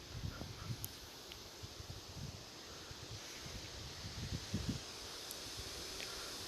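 Strong gusting wind sweeps through a birch forest, a steady broadband roar with rustling leaves and occasional low buffeting thumps against the microphone, continuous and fairly loud throughout.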